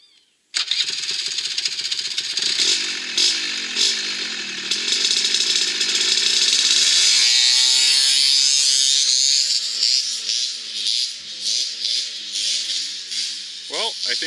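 A Suzuki LT80 ATV with a tuned clutch starts up and idles raspily, then revs up loud and close to a high, buzzing pitch that wavers as the throttle is worked.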